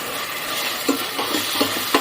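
Chilli powder and turmeric fried in a pan for churumuri, stirred with a spoon that gives several distinct scrapes and taps over a constant close sizzle, no voices.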